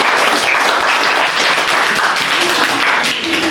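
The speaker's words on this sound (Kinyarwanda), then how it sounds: "Amashyi menshi, amashyi menshi." A crowd at a school child's birthday celebration claps in loud, steady, dense applause lasting throughout, close and continuous with faint voices mixed in.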